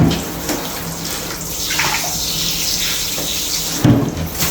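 Water splashes and trickles steadily as a baby is washed behind the ears during a bath, with a brief louder splash near the end; no talking.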